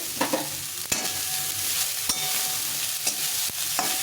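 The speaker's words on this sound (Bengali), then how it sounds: "গাজরটা একটু ভাজা ভাজা হয়ে গেছে এখন বাঁধাকপিটা দিয়ে দিব" Carrot and cabbage for momo filling are stir-fried in a pan, with a steady soft sizzle broken by a few sharp scraping clacks of the spatula at irregular intervals, no talking.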